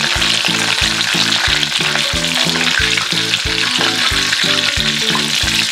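Eggplant slices fry in hot oil in a home kitchen with a steady, loud, close sizzle that continues throughout, under a background of rhythmic music and without any talk.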